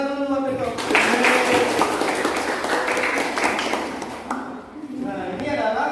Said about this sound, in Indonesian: Oke, tepuk tangan dulu buat Peto.